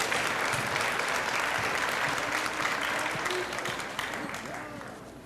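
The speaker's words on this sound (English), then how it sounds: "One more round of applause for our reading maths course." Applause at an 8th grade school awards ceremony, a dense audience clapping that holds steady and then tapers off toward the end, with some voices mixed in.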